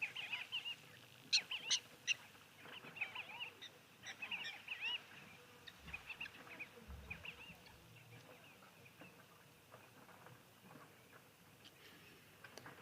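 Wild birds call outdoors in a natural setting: a faint, distant mix of scattered chirps and honking calls rising and falling over soft ambient noise.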